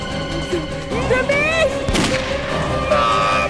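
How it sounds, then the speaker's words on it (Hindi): A gunshot is fired at a cable in a tense action drama scene, one sharp blast landing midway through a loud, busy soundtrack with tones and effects, voices faint beneath. "अभिजीत, मैं केबल पे फायर करता हूँ, तुम कूद जाओ, पकड़ लो इसे।"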